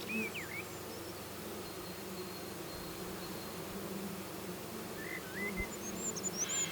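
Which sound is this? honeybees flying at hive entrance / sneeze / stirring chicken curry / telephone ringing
honeybees flying at hive entrance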